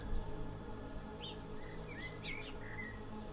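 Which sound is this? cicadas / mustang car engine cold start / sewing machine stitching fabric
cicadas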